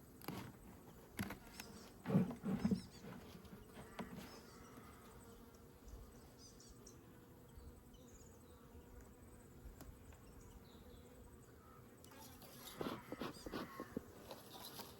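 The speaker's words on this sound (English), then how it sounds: "These guys are really, really good bees." Honey bees buzz close by, a soft continuous hum with louder passes as individual bees fly near, then fade.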